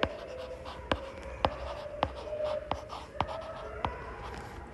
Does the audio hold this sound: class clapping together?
no